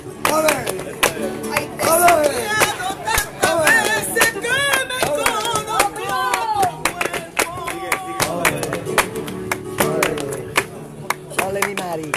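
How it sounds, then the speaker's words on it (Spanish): Crowd clapping palmas in rhythm at the Rocío 2019 pilgrimage, sharp handclaps accompanying a voice singing flamenco rociero, with claps and song mixed together throughout. "Quiero toda mi gente tocando las palmas"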